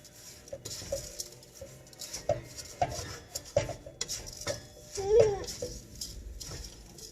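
A spoon stirring cabbage roll filling with parsley in a bowl, producing soft scraping and clinking against the bowl in uneven strokes while people talk nearby.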